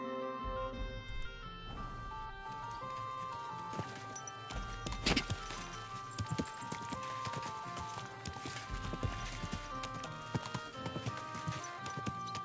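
Horse hooves clop in an irregular walking rhythm within a video game scene, moderately quiet under background music and occasional sharp clicks and thuds, with no talking.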